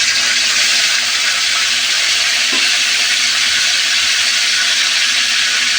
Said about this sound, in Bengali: তেলটা গরম হয়ে আসছে, এই যে আমি এগুলো দিয়ে দিচ্ছি।